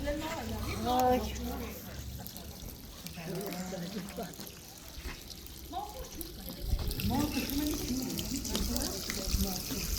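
Water flows from a household tap after a water pump is switched on in Gyumri, splashing and pouring steadily while people talk over it.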